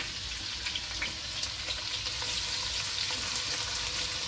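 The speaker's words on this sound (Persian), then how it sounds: "حالا پیازهای نگینی شدهمون رو داخل یه قابلمه بزرگتر سرخ میکنیم." Diced onions sizzling in a little oil in a large pot as the base for a Persian beet soup, a steady crackling fry with light stirring throughout.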